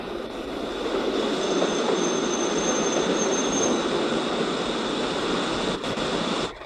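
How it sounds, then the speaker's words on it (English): The midnight train to Paddington rolls slowly past just below a window as it eases into a turn, a steady close rumble with a faint high wheel squeal over the first half. "Here comes the train. The midnight to Paddington."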